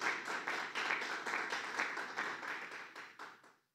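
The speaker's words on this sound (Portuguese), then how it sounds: "Aplauda o Senhor," A church congregation applauds together in steady, continuous clapping of moderate loudness, which fades out after a few seconds.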